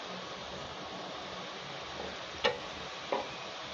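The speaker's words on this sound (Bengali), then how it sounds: "এরকম করে উল্টে পাল্টে লাল লাল করে ভেজে নেবো।" Langcha sweets deep-frying in a pan of oil: a soft, steady hiss with two brief clicks from turning the pieces.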